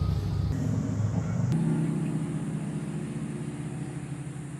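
Powermatic Model 90 lathe drive unit winding down after the stop button is pressed: a steady low motor hum and whir that shifts at the start and then slowly fades, close and continuous with no talking.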